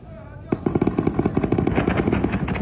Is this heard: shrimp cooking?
no